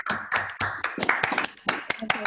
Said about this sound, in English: I think we should all give a round of applause for Mira.